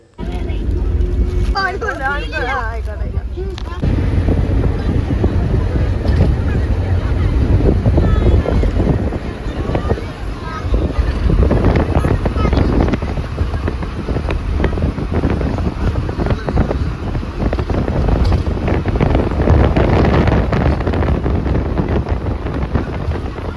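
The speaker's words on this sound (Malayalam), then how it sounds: "അവിടെ നല്ല കാറ്റും അടിപൊളിയായിരുന്നു കേട്ടോ" Strong, constant wind buffets the microphone on a beach at Alappuzha, a loud roaring rumble with faint voices and surf-like wash underneath.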